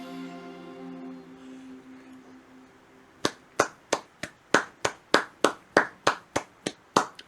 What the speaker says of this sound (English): I'm gonna clap for Pokemon there